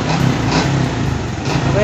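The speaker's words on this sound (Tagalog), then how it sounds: "mag-kickstart na lang po tayo" A motorcycle engine that has just been kick-started in a spark-plug repair idles close by with a rough, throbbing chug, and a voice talks over it.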